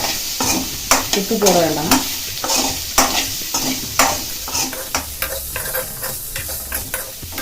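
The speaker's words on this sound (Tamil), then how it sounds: "நல்லா இதில் வறுத்துக்கலாங்க" Chilli powder and meal maker chunks fry in a pan, with a steady close sizzle broken by repeated scraping stir strokes. A voice speaks briefly partway through.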